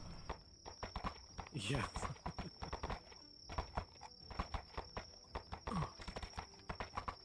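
Rapid video game horse hooves clip-clop in a steady trotting rhythm, with a brief whinny and a voice speaking over the galloping.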